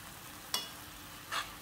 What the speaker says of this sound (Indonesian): Kita aduk-aduk dulu, kita masak sampai ayam, wortel, dan kentangnya itu mateng